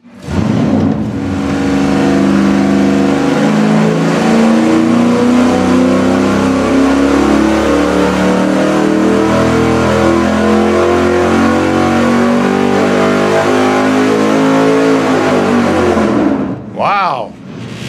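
A V8 engine on a dyno during an intake manifold comparison fires up, then roars through a long, loud, steady rev sweep before cutting off sharply near the end, with brief talk at the start.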